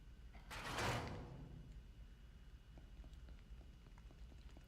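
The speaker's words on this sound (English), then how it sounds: "Close the frickin' door." A heavy door sliding and thudding shut in The Texas Chain Saw Massacre video game, one short burst of mechanical scraping early on, then only faint room ambience and small clicks.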